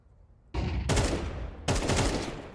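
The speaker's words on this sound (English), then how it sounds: "Throwing a flashbang." Flashbang grenade in a shooter video game: a sharp burst lands, then a second loud crack follows about a second later, each trailing off in a dense, ringing wash close up.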